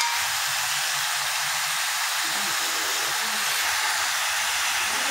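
Chopped tomatoes hitting a hot pan give off a steady, loud, bright sizzling hiss that holds evenly throughout, with faint low murmurs underneath.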